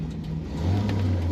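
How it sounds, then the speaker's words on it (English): A 1967 Chevrolet Camaro RS/SS coupe is driven on a lightly rainy day, its engine giving a low steady drone that swells slightly as it revs, close and clear with no talk. "Today we're driving a 1967 Chevrolet Camaro"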